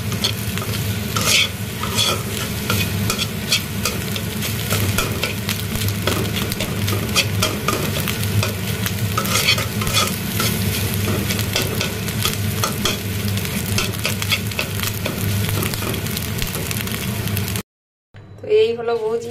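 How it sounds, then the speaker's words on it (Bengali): Egg bhujia is stirred and fried in a pan at a street-food stall, with a loud continuous sizzle and repeated scraping and clinking of a utensil against metal while a voice talks. It ends with a brief silence and a short different sound. "এভাবে এখন ভুজিয়া করে"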